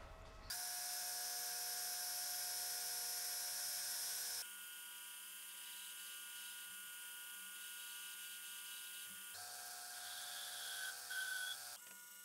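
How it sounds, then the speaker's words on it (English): A drill whines at high pitch through the end of a steel rod, drilled for tapping a 1/4-20 thread, in long continuous runs, the tone shifting as pressure changes, with brief pauses between passes. "we're gonna drill and tap the end for 1/4-20 thread."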